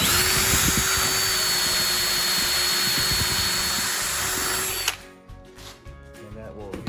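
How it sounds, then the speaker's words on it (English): A power drill with a pocket-hole jig bores pocket holes into 2x4 lumber for an outdoor bar build, making a loud, steady high whine for about five seconds before cutting off to quieter handling noise. "all the parts are cut and the pocket holes are drilled"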